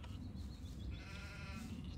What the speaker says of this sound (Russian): Она бегает, мекает.